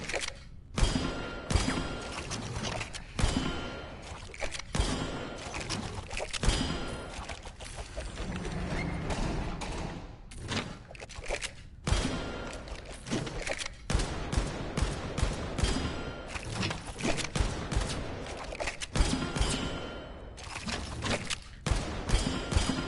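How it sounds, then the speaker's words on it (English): Dense gunfire in the video game Blood & Truth, rapid bursts of shots and automatic fire with thuds, loud and nearly continuous, without speech. "I never miss any shots."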